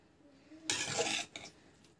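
A spoon stirs a rice and egg mixture in a bowl, giving a short burst of scraping and clinking that lasts about half a second, followed by a fainter scrape.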